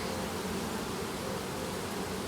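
Honeybees buzzing in an opened hive during a July inspection, a dense, even hum filling the air without pause, fairly soft and close.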